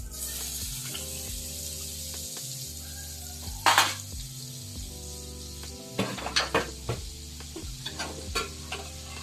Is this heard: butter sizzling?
yes